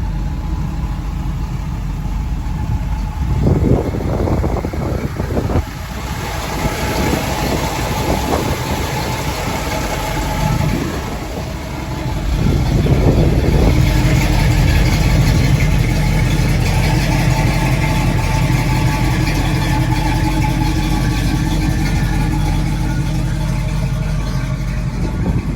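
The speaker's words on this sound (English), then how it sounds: "Engine sounds fantastic and does drive" A 1967 Chevrolet Camaro engine running steadily and loudly, a throaty idle with a brief rev partway through before settling into a fuller, sustained rumble, no talk.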